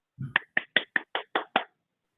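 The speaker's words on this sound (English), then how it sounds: "So we start off with a round of applause" A round of applause on a Zoom call after a study session: seven sharp, evenly spaced hand claps close to the microphone, just after a short low murmur.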